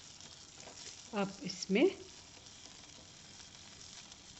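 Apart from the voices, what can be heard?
curry leaves and peanuts frying in oil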